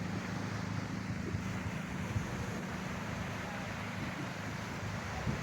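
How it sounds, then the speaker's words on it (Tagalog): Ocean surf rolling in at White Beach, Bolinao, Pangasinan, a steady wash of waves mixed with wind buffeting the microphone, continuous and fairly quiet throughout with no talk. "Dito kami ngayon sa isang karagatan sa Pangasinan."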